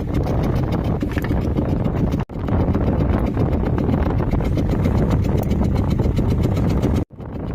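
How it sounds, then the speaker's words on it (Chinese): Strong wind at sea buffets a fishing boat, a loud, constant roaring rush with gusty buffeting that briefly drops out twice before surging back. "能明显的听到这个风声变得很大了"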